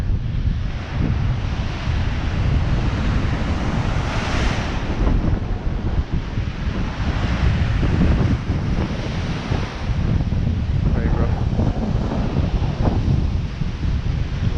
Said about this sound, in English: the wind's coming from behind as well, so that's good